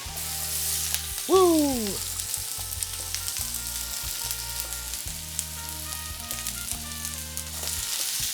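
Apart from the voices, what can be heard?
onions and peppers frying and sizzling in a pan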